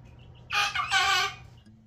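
A rooster crows once, loud and close, its call rising and wavering for about a second before fading.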